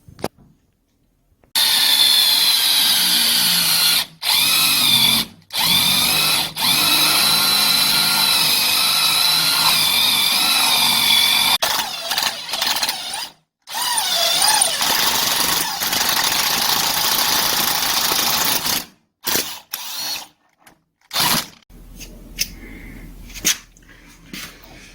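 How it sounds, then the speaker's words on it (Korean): A power drill bores a 12 mm hole in a door, running loud and whining in several long bursts separated by abrupt stops and short silences, then falling into choppy brief pulses toward the end. "저는 13mm짜리 날이 없어서 일단 12mm로 구멍을 뚫고 조금 더 넓혀줄 거예요"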